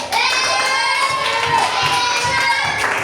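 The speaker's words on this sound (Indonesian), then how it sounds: "Tepuk tangan dulu buat Jale." Classroom of schoolchildren applauding for a classmate, a short burst of dense clapping mixed with children's cheering voices, close and loud throughout.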